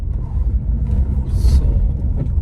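A Maruti Suzuki Swift DZire car pulling away in first gear, a steady low engine rumble with a brief hiss partway through, heard from close by with no talking.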